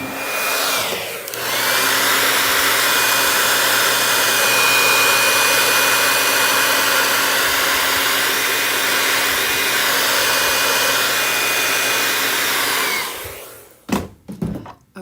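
A hair dryer blows steadily and loudly on a handmade witch-themed craft piece for about twelve seconds with a constant whine, then cuts off, followed by a few handling clatters.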